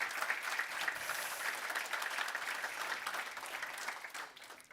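Audience applause at the International AI Summit in Brussels, a steady dense wash of many hands clapping at once, sustained throughout and fading slightly at the end.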